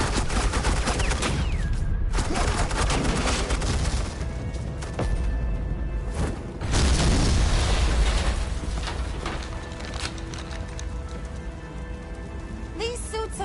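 Sustained suppressing gunfire from Batman: The Enemy Within, a loud dense rattle of shots with crackling bursts running nearly continuously for over ten seconds, with game voices and music underneath.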